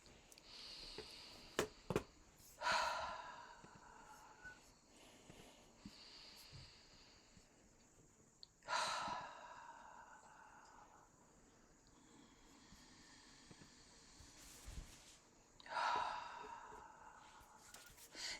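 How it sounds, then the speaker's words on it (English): Slow, drawn-out breaths during a guided breathing exercise, three long airy exhales spaced several seconds apart, close and soft in a quiet room. "we just allow ourselves to breathe in, not focusing so much on the breath in right now, but really focusing on the exhale."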